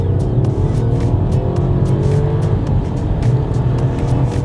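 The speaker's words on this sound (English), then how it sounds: "Let me give you a bit of that engine." Steady, loud Volkswagen T-Cross engine drone with a low rumble that rises slightly, heard from inside the vehicle, with faint ticking above.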